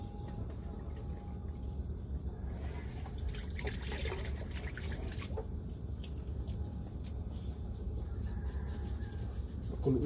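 Broth trickles and splashes into a pot of native chicken tinola soup, a soft, continuous pour heard fairly faintly against a background hum, with insects chirping nearby.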